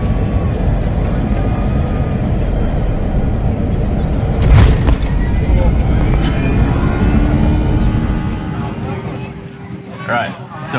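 A passenger airplane in flight to Thailand, a loud constant engine drone filling the cabin, with a brief louder swell midway and people talking over it.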